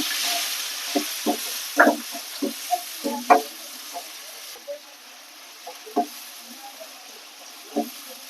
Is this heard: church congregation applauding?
no